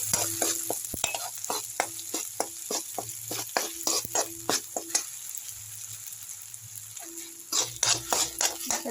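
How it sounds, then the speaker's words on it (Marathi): Raw masala for stuffed bitter gourd sautés in hot oil in a kadai as a spatula scrapes and taps in quick bursts over a continuous hiss, with a short pause midway, close up and without speech. "मसाला मी फक्त परतून घेणार आहे कारण हा कच्चा मसाला आहे"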